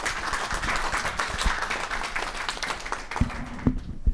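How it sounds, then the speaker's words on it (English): A conference audience at a democracy forum applauds to welcome a panel, a dense wash of clapping that holds steady throughout and then thins out toward the end, with a few sharper claps near the close. "let's welcome this panel with a round of applause"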